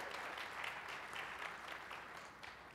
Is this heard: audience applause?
yes